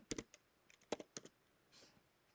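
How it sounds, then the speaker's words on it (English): Quiet clicks of keys on a computer keyboard, a few irregular taps in short bursts with pauses between, close and faint with no voices. "I type in what I'd like"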